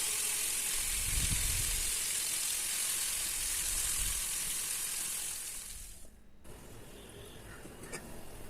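Fish pieces fry in a pan after being flipped, a steady close sizzle for a Kanchipuram village-style fish curry, dropping quieter near the end as the frying settles into a softer crackle.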